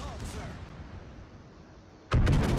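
Secondary battery guns of a warship fire in World of Warships, heard as a sharp booming blast near the end, following a stretch of low rumbling.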